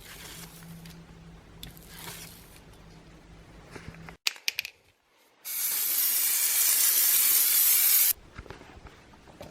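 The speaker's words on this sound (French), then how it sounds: "je pulvérise mon entremets avec ce spray et j'obtiens donc un cœur tout rouge" A red coating is sprayed onto a fruit and pistachio entremets in one close, steady hiss lasting about three seconds, preceded by soft handling clicks and a brief quiet pause.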